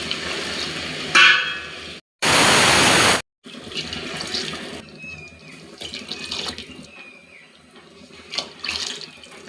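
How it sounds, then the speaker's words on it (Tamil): Water runs from a tap in a steady burst into measured rice for tomato rice, with kitchen clatter and handling sounds before and after; no talking. "அதில் 4 கப்பு தண்ணி ஆட் பண்ணிக்கிறேன்"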